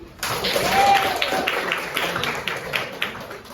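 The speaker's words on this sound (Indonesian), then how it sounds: "Coba tepuk tangan dulu." Schoolchildren in a classroom clap together on their teacher's cue, a loose burst of claps that settles into a few rhythmic rounds, fairly close, with a voice briefly heard near the start.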